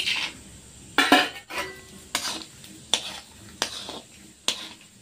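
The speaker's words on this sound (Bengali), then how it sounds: "তো এবারে বাদামটা দিয়ে দিচ্ছি তেলের মধ্যে।" Peanuts fry in hot oil while a metal spoon stirs them in the pan, giving regular scraping clinks about once a second over a soft sizzle.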